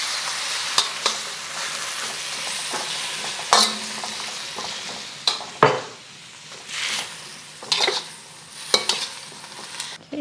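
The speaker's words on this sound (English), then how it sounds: "we're just going to quickly stir fry that for about 30 seconds until you start to smell it" Beef with gailan (Chinese broccoli) and sauce is stir-fried in a pan, giving a continuous sizzle. Repeated sharp clanks and scrapes of a spatula against the pan punctuate it at irregular intervals, close and fairly loud.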